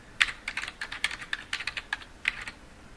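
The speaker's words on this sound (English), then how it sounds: "click once in the search bar, type in our keywords" Computer keyboard typing while entering search keywords: a quick, uneven run of light plastic key clicks, close and fairly quiet, with no voice over it.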